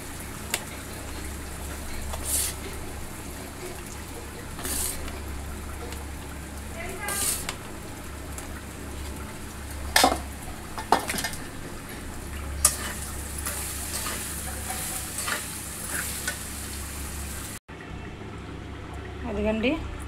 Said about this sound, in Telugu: ఇప్పుడైతే రైస్ వేసుకుంటున్నానండి.